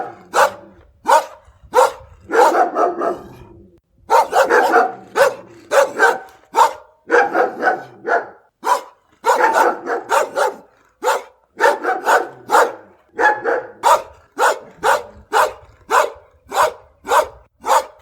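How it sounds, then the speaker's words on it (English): Angry dogs bark in a forest, a steady run of sharp, loud barks, sometimes overlapping in dense bursts and sometimes single, continuing for the whole stretch with no voices. "The barks of angry dogs in the forest awoke me from my sleep"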